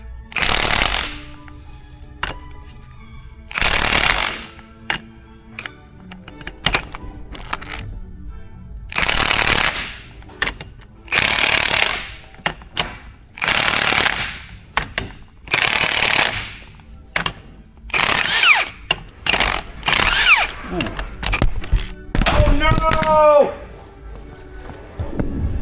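An impact gun works the differential bolts on a Ford F250 during a rebuild. It fires about ten loud, close, hammering rattles in short bursts separated by pauses, with a shrill squeal near the end.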